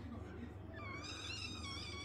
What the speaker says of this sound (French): Tu miaules après Prince.